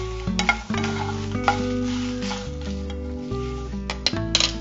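Round dried red chillies roast in a hot pan, sizzling continuously while a spoon stirs and scrapes through them. The clatter of utensil against metal comes through with a few sharper knocks.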